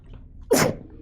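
A single sharp sneeze bursts out close by during a tabletop Dungeons & Dragons session, a loud one-second burst against quiet room tone.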